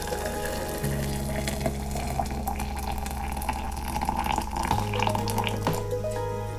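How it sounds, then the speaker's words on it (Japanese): Freshly boiled water pours steadily into a Klean Kanteen Insulated TKWide bottle, a continuous near splashing stream whose pitch shifts as the bottle fills. "今沸騰させたお湯を注いで"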